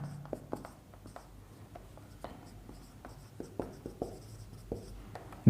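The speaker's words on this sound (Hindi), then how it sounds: "लिखते हैं यहाँ" Chalk or marker writing on a board during a maths lesson on differentiation, a steady run of quick taps and short scratchy strokes close by, with faint room noise and no talk.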